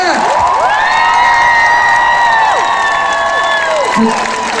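A large outdoor festival crowd cheers, whoops and claps for a band at a Festival Republic show, with shrill sliding whistles riding over a loud, continuous roar.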